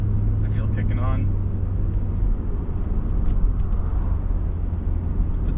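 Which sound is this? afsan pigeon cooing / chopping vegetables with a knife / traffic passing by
traffic passing by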